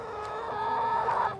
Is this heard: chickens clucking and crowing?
yes